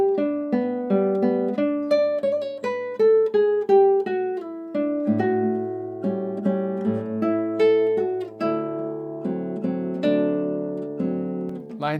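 Solo guitar runs through the second line of João Pernambuco's Sons de Carrilhões, a flowing arpeggiated figure with ringing treble notes over a low bass, played up close and continuously without talk.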